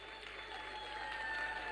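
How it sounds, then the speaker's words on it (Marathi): Audience at a dance performance applauds in a brief, steady burst of clapping, heard faint and distant. "एकदा जोरदार टाळ्या वाजवूया प्रणव जंगम यांच्यासाठी।"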